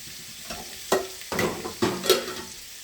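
Thin chicken pieces fry in a pan with a soft background sizzle, while a few close clacks and scrapes from a utensil come in quick succession, and nobody speaks.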